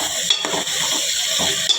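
Brinjal sizzles in oil while being stirred in a pan, with a steady hiss broken by a few close scrapes of the spoon.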